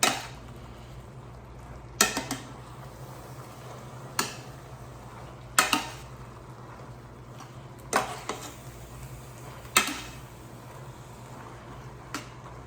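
Spinach and cheese stuffed salmon sizzles quietly in a pan under a steady low hum, broken by about seven sharp clinks and scrapes of a utensil against the pan as the fish is flipped.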